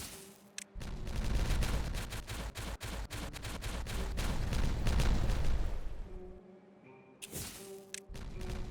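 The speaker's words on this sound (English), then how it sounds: "And let's get some explosions going" Rapid booming explosions from the video game Timberborn fire in a dense, continuous barrage, then thin out to a few separate blasts with quieter gaps.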